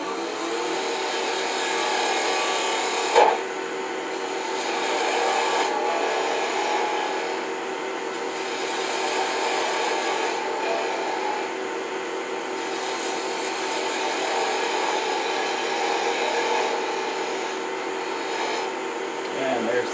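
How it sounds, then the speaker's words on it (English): A spindle gouge cuts a chess piece turning on a wood lathe, a steady continuous scraping hiss running the whole time with small dips and one sharp knock, close and fairly loud. "I'm going to use the spindle gouge for that"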